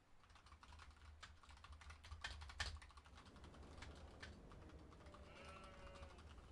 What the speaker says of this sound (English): Just need to type some as well.